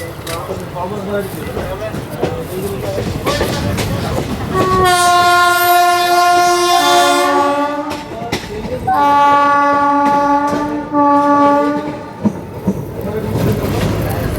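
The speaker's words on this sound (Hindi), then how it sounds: "इस WP4 का हॉन्क ना इतना स्ट्रॉन्ग है।" The horn of a WP4 locomotive hauling the Marathwada Express blares in two long, loud, harmonic blasts, heard from inside the train over rumbling wheels and clatter, with talk nearby.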